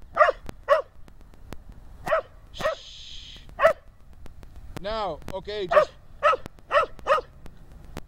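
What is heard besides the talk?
dog barking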